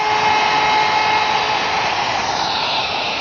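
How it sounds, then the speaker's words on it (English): A router fitted with a 1/2 inch roundover bit whines at high speed as it eases the back edge of a wooden table support, loud and continuous and gradually dropping in pitch. "Using a portion of a 1/2 inch roundover bit, I've eased the back edge of the support"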